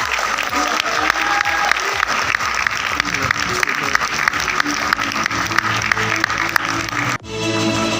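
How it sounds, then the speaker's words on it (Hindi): A theatre award ceremony hall fills with dense, steady applause from a large crowd. The sustained wash of clapping goes on for about seven seconds, then drops off suddenly, with voices faintly underneath. "एक बार जोरदार तालियां सेकंड बेस्ट डायरेक्टर अवार्ड के लिए।"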